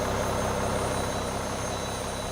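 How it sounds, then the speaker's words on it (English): Boeing 737 engine running in the X-Plane 11 flight simulator, a steady, dense broadband roar with a low rumble, continuous and unchanging throughout, with no talk over it. "Is it me or does that engine sound different?"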